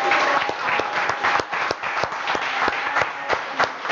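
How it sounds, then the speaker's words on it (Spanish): An audience at a Java developer meetup applauds warmly, with a dense burst of many hands clapping and a few sharp, distinct claps standing out, lasting about four seconds. "quiero que le den una bienvenida y un caluroso aplauso al nuevo Java Champion, Domix"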